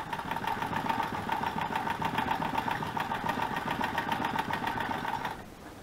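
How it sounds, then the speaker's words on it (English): Hand-crank sewing machine running at a steady pace, a close, even mechanical whirr with fast rhythmic ticking that holds for about five seconds and then stops. "It's just a pure sewing machine noise."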